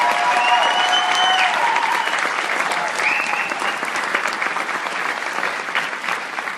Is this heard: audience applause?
yes